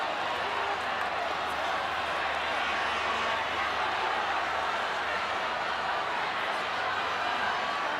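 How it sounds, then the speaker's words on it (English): Stadium crowd at a 1997 rugby league match between Balmain Tigers and North Sydney Bears, a broad steady roar filling the whole clip with no break, loud and dense throughout. "there's the crowd blowing up"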